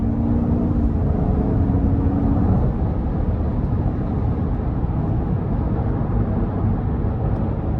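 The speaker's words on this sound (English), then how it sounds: "And I love the exhaust here." Deep steady exhaust rumble from a 2024 GMC Yukon Denali Ultimate with the 6.2 V8, heard from inside while driving, loud and constant with a faint tonal drone early on.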